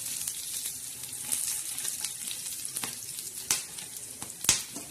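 Whole spices dry-roasting in a pan for a spicy black-masala chicken curry, giving a soft steady sizzle with scattered light crackles and pops, close and quiet, with no voices.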